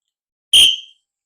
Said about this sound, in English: when you hear that whistle, pay serious attention